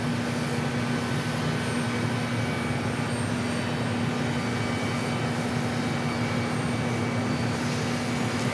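An airliner operating a flight from Taipei roars at Phoenix Sky Harbor airport, a constant loud engine drone with a steady hum and no pauses throughout.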